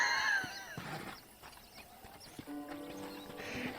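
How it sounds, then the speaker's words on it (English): Horse hooves clip-clop in the Red Dead Redemption video game, a short run of hoofbeats mixed with a whinny and game sound effects, moderately loud, with no talking. "I picked out a fine horse for you."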